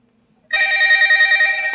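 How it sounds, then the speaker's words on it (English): A phone rings loudly and close, a sustained electronic ring tone in an otherwise quiet room, cut off after a little over a second. "Oh, no, my phone's ringing."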